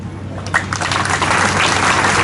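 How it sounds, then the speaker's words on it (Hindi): A crowd at a political meeting with the chief minister in a village breaks into applause that swells from scattered claps into steady, loud clapping over a low background hum. "और अब ताली बजाए दे रहे हैं"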